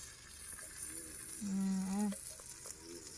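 Sucuk sausage frying in a pan outdoors, a soft steady sizzle and crackle, with a brief voice-like tone in the middle.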